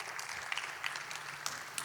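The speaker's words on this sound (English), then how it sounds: "Everyone give a big round of applause while we call our speaker up." A conference audience gives a speaker a round of applause, the clapping soft and distant yet continuous, with scattered sharper claps and no talk over it.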